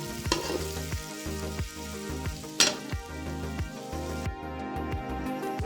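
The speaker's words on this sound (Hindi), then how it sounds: "धीमी आग पे फ्राई कर लें" Vermicelli fries in oil over low heat, a close, continuous crackling sizzle with regular stirring scrapes and a couple of sharper clinks against the pan.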